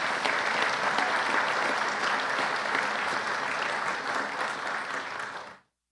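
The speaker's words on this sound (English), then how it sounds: "Let's give them all a round of applause." Loud, sustained applause from a crowd at a Louisville Metro Police Department ceremony roars evenly for several seconds, then cuts off abruptly.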